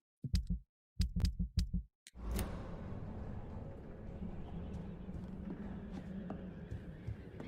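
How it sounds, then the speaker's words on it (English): Heartbeat-like thumps sound in a video game: a few sharp, isolated knocks in near silence at the start, then a steady dense rumble of ambience fills the rest. "It's a heartbeat. You hear that?"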